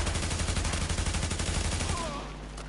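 Rapid gunfire in The Division, a video-game shootout: a fast, steady string of loud, close shots that stops abruptly near the end, leaving a fainter tail.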